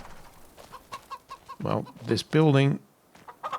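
Chickens in a farm building in the video game Farming Simulator 25 cluck and squawk in short bursts, a loud drawn-out squawk near the middle, with someone briefly speaking.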